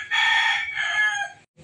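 A rooster crows once, loud and close, a single drawn-out call that breaks off, with a brief fainter sound after.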